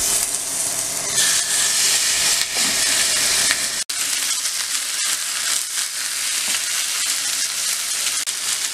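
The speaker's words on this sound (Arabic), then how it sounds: "وبعد ما الطاسة تسخن كويس جدا هنحط الفراخ" Chicken pieces frying in a very hot, well-oiled pan over high heat give a loud, dense sizzle and hiss that runs steadily throughout, with a brief dip partway through and no talking.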